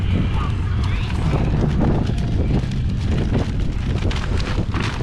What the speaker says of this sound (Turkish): Çok rüzgar var yalnız.